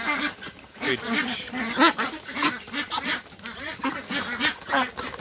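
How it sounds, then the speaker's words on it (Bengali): A flock of 42-day-old Pekin Star ducks feeding on a farm keeps up steady, rhythmic quacking and honking calls close by, with a person talking over them. "এই যে আমার হাঁস পিকিং স্টার থার্ড এড, আজকে 42 দিন বয়স। এই যে এরা খাচ্ছে"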